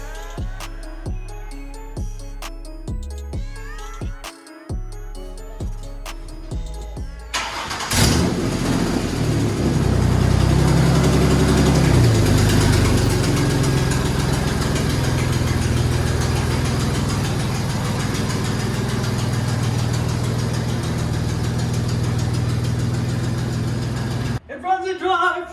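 A twin-turbo 1965 Mustang engine cranks with rhythmic starter pulses, catches, then settles into a loud, rough, steady idle held close by for the rest of the clip, which cuts off abruptly near the end.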